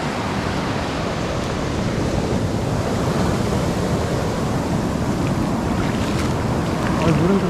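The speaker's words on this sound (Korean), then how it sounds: "파도가 쭉 밀고 들어올 때 돌길이 부딪히는 소리." Waves surging over pebbles on a Spanish beach, a steady loud wash and rumble of water and stones with wind noise on the microphone throughout.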